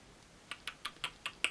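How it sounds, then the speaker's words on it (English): A SteelSeries Apex M800 mechanical gaming keyboard is typed on, six sharp evenly spaced key clacks following a short quiet pause, close and fairly crisp. "That's what the keyboard sounds like."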